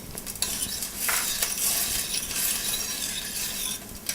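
Broad beans and finely chopped onion sizzle in a hot pan, giving a steady close hiss with a few soft clinks of a utensil against the pan.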